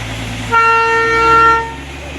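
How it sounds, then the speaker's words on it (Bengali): A steam-engine toy train on the Darjeeling mountain line sounds a single steady horn toot lasting just over a second as it starts, fairly loud over a low engine rumble. "পাহাড়ি রাস্তায় টয় ট্রেন স্টিম ইঞ্জিন এখনও চলে।"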